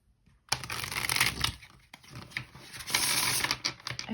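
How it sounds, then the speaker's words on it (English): Tarot cards being shuffled by hand, a dense crisp riffling and slapping of the deck starting after a brief pause, with a short gap near the middle before the card noise resumes and carries on to the end. "Let's give this another shuffle."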